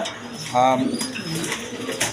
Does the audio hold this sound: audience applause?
no